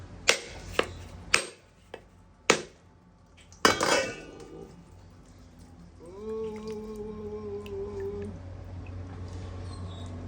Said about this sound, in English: You want to keep smashing around it, keep hitting it, because that loosens it up